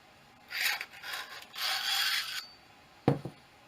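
Metal parts of a portable camping fire grate being fitted together, with scraping and rubbing passes followed by a sharp clack, close and fairly quiet, no voices.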